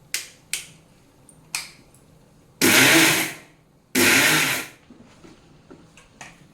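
Mixer grinder pulsing roasted rava into powder: a few short clicks and taps, then two loud, harsh bursts of grinding lasting about a second each, followed by more small knocks.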